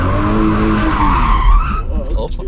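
A car drifts with its tires skidding in a loud, sustained screech that slides downward and then breaks into rougher bursts as the slide ends, with a voice faintly present.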